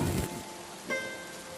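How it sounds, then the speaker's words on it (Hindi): Heavy rain falls in a short, steady wash of noise, with a soft thud near the start and another faint knock partway through. "कितनी तेज बारिश हो रही है"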